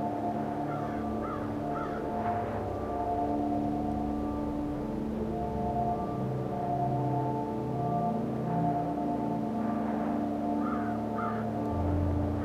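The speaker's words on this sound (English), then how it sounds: "Oh my god, those crows in the game." Video game crows caw repeatedly in scattered bursts over a steady background hum, some calls closer and louder than others.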